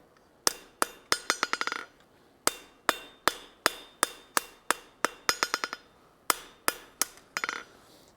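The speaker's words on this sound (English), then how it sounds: "Hammer over the horn." Steel hammer blows ring out on an anvil as forging tongs are bent back toward straight over the horn, sharp metallic strikes in single hits and quick bouncing bursts, loud and close with no talking.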